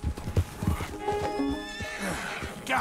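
Hooves clop in a quick rhythm in Red Dead Redemption 2, then a horse gives a loud, wavering whinny that trails off, with a brief rustle at the end.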